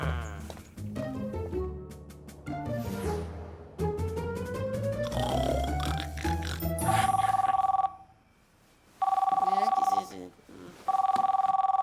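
A cartoon telephone rings in loud repeated electronic bursts, three rings separated by short gaps, following a stretch of voices and comic sound effects.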